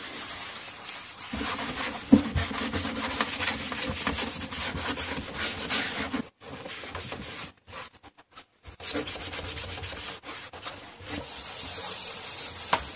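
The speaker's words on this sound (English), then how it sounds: "On the scratched surface, some wood stain has been applied." Wood stain is rubbed by hand onto the scratched wooden cabinet of a Marbon 510A radio, a steady close scrubbing that runs continuously with two short pauses midway.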